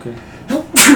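A sudden, sharp sneeze bursts out after a brief spoken word, with a short breathy intake just before it.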